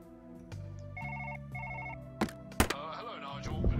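A phone rings inside the virtual-reality game Surgeon Simulator on PlayStation VR: two short trilling bursts over steady in-game tones, followed by sharp clattering thuds and shuffling.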